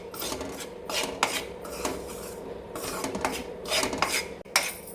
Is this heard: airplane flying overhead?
no